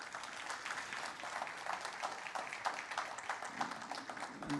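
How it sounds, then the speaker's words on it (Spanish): A crowd applauds steadily, a dense wash of many hands clapping at a moderate, even level throughout. "¿Cuántos dan un aplauso al Señor por eso?"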